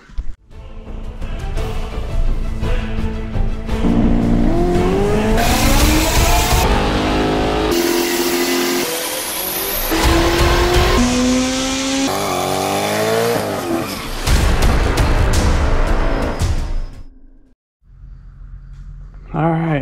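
A supercharged Ford Mustang GT with a 4.6-liter two-valve V8, new pulley and rebuilt rod-and-piston bottom end, roars loudly on a dyno, its revs climbing in repeated sweeping pulls before cutting off sharply near the end.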